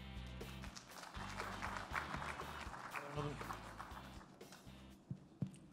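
A conference audience at a blockchain event applauds to welcome a speaker, steady clapping of moderate loudness running through the clip, with voices mixed in.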